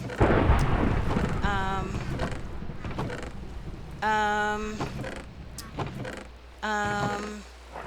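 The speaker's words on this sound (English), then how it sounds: "Come on, you can stop raining any second now." Steady rain and low rumbling thunder fill a video game scene, with a few sharp creaks and clanks and rising harmonic tones sounding above the downpour.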